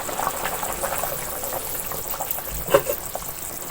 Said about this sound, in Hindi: अब बॉयल आ चुका है